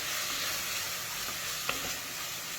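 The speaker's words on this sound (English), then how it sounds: "let's turn that heat down and give it a good mix" Beef, onions and spice mix are stirred in a pan over lowered heat, giving a soft, steady sizzle with one sharp clink of the utensil; no one talks.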